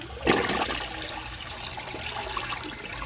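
A 2007 Crane Elite toilet flushing, a loud rushing gush of water with a sharp surge at the start, then a steady churning wash and trickle, heard close with no talk.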